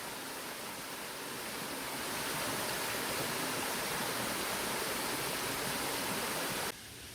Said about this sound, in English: getting the full effect of the water rushing by